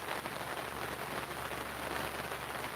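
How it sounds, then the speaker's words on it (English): Light rain sprinkles down as a soft, continuous hiss, faint and even throughout, with no voices over it. "and then it started sprinkling."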